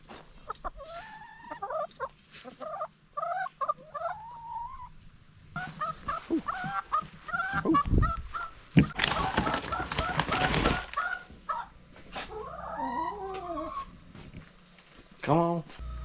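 Chickens, including a new Buff Orpington hen, cluck and squawk in a coop in repeated close bursts, with a loud rustling, flapping stretch midway and people talking in between.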